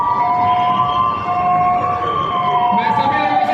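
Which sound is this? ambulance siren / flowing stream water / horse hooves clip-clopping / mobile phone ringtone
ambulance siren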